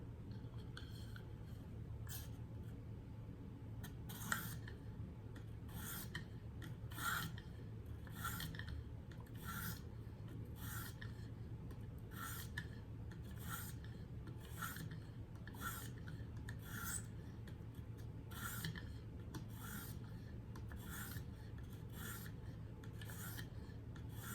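A Kershaw Reverb knife blade is drawn repeatedly across a stone on a KME sharpener, producing a steady series of short, quiet rasping strokes in an even rhythm over a faint background hum.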